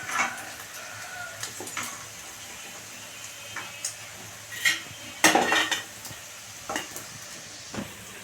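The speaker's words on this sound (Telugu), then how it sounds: "స్టవ్ ఆఫ్ చేసేసి ఇప్పుడు వాటిని బౌల్లో పక్క తీసేసుకుందామండి" Fried dried prawns are scooped out of a pan into a bowl after the stove is switched off, leaving soft scrapes and sporadic metal clinks from a spoon against cookware over a faint residual sizzle, quiet and close, with no voices.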